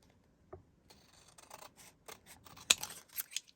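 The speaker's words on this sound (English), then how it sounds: "You can take your scissors and you can go ahead and trim around the outside" Scissors snip at a fabric quilt block being trimmed around its edges for a 3-D tulip embellishment, giving a series of quiet, close crisp cuts that grow sharper and more frequent toward the end, with no talking.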